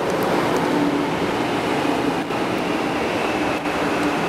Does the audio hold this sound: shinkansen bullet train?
yes